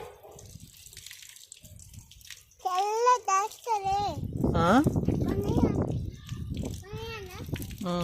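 Water running from a garden tap during watering, a steady splashing flow under children's voices talking and calling out loudly.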